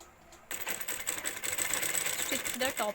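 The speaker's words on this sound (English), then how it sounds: "Stitch the top side. Stitching the top side." A sewing machine stitching the top side of a small handbag starts up after a brief quiet moment and runs as a steady, rapid, close mechanical whirr and clatter, with faint talk underneath.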